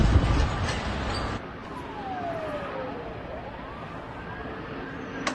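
Emergency vehicle sirens wail through snowy Moscow streets, a gliding siren tone rising and falling over steady traffic rumble, moderately distant after a louder burst of noise at the start.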